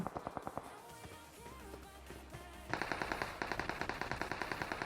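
A new automatic rifle chambered in 7.62 fires in PUBG: rapid evenly spaced shots, a short burst at the start, then a longer, louder sustained string of automatic fire in the second half, close by, with no talking.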